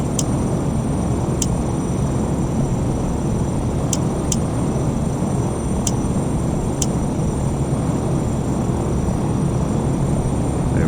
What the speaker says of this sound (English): So as you can hear, the engine sounds are very good. Very realistic